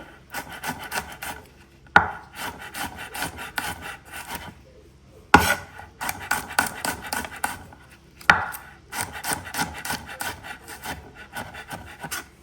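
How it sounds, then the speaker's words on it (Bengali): A knife chops garlic and onions finely on a board in rapid, even bursts of taps, pausing briefly between runs, close and crisp with no voices. "রসুন আর পেঁয়াজগুলো কুচি কুচি করে কেটে নেব"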